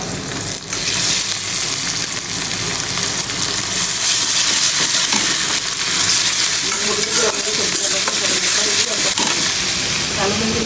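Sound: fish with onion and green chilli frying in a pan

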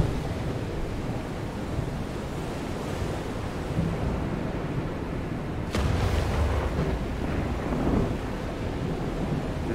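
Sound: wind in the video game FAR: Changing Tides

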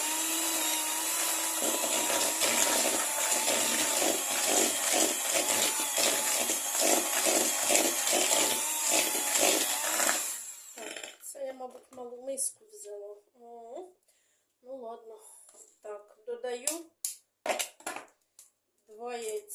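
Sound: electric mixer beating melted margarine with sugar

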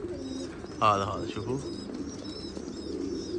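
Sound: pigeons cooing

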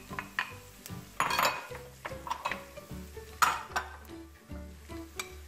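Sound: garlic and chouriço frying in a pan

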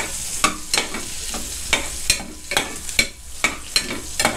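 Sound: stir-frying pepper in an iron pot

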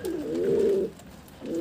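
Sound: pigeons cooing

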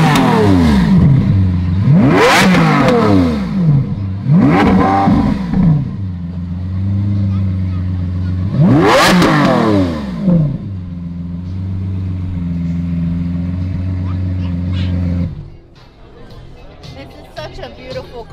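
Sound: Lamborghini car engine starting and revving

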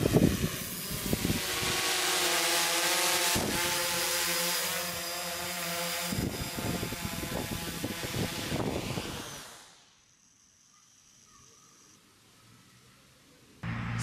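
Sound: multirotor drone flying in to land

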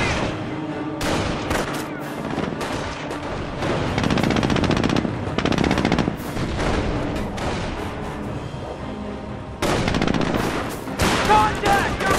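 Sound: gunfire in the video game Company of Heroes: Tales of Valor

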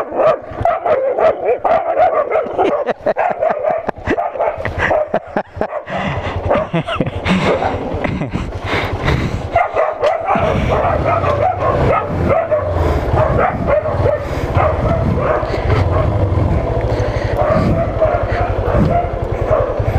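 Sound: dog barking

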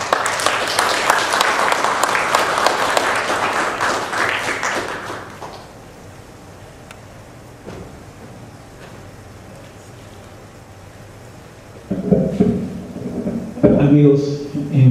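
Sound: audience applause

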